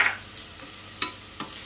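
Moong dal frying in a pan over tempered spices, a soft background sizzle broken by a few sharp spatula scrapes and stirs, close and without speech.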